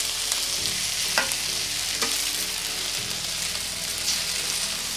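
Two fresh farm eggs fry on a Weber Slate griddle, a steady close sizzle and crackle running throughout, with a few small pops and no talking.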